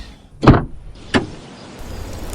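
A car pulls up with a front tyre just punctured; two sharp door clunks follow, a loud one and then a lighter one, the first with a brief rush after it, over a faint steady background.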